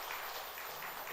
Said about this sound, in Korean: 잠깐 좀 일어나 주시면 박수로 환영해 주십시오.